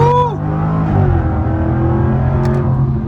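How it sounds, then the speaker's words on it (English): A 2022 Jaguar F-Type R accelerating hard from a stop on a concrete highway, a loud steady engine roar with rising gear tones and a shift near the start, heard from inside the car. "This should be a good opportunity to try an acceleration off the line."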